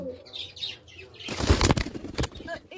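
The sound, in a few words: pigeon flapping wings while put into cage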